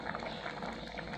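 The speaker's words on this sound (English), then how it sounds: "The dal is boiling." Dal boiling in a pot on a kitchen stove gives a steady, close bubbling and hissing that fills the whole moment without any voices.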